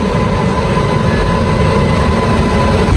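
A train arriving at a station in Rajasthan rumbles with a low, steady roar as it rolls along, a deep mechanical drone filling the whole stretch without any voices.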